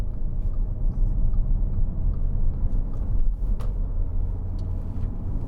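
A 2010 Audi A4 Avant 3.0 TDI S line driving along a winding road, heard as a steady, dense low rumble of engine and road noise inside the cabin, unbroken and without talk.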